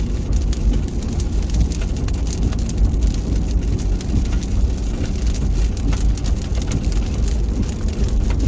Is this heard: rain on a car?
yes